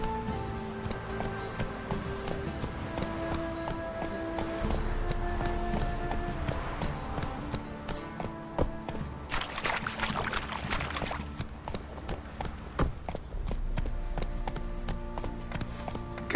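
Roach, Geralt's horse in The Witcher 3, gallops with steady clip-clop hoofbeats through a busy game soundscape of background music and ambient effects, holding a continuous rhythm for the whole stretch.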